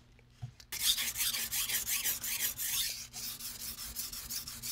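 A Japanese-style knife is sharpened on a 400 grit whetstone: steady rhythmic gritty scraping strokes, close and clear, about four per second. A short break falls near the three-second mark and no one speaks.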